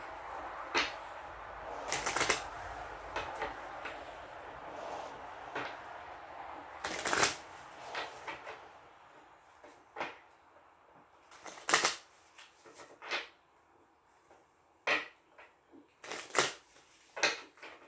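Tarot cards being shuffled by hand in a quiet room, with repeated quick riffling bursts and soft slaps that come at irregular intervals and stand alone without talk.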